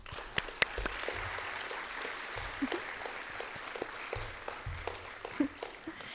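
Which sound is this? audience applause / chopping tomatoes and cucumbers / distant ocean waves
audience applause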